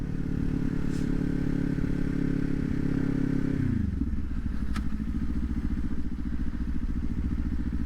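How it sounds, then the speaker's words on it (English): A motorcycle engine hums steadily, then its pitch drops and settles lower as the clutch is pulled and the bike shifts up. A brief click comes partway through, with continuous wind and road noise throughout. "I'll pull the clutch in, take my hand off the throttle, so let off the gas, and then I'll shift up."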